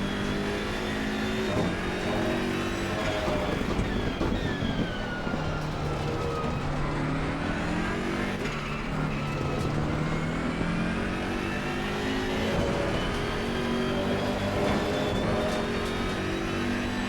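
A BMW M6 GT3 race car engine roars in Assetto Corsa Competizione at Misano, its pitch sweeping up and down through repeated revs and gear changes, loud and continuous with no talking.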